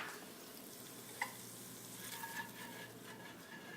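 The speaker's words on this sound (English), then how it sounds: "Next, we're going to add in our shallots." Two finely sliced shallots sizzle steadily in melted butter in a pan, a soft continuous frying hiss with a brief clink near the start and light stirring scrapes.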